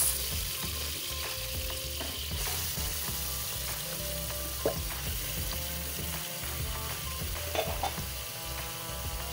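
Mutton pieces drop into hot oil and fry in a loud, constant close sizzle, with a few clinks of utensil against the pan.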